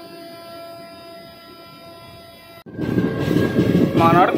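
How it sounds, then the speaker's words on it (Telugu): A normal non-AC passenger train stands at a railway station platform. A steady tonal hum gives way to a loud, close rumble of moving carriages, with a brief horn-like squeal near the end. "ఇక్కడ ఏదో ట్రైన్, ఏసీ ట్రైనా కాదు, నార్మల్ ట్రైన్."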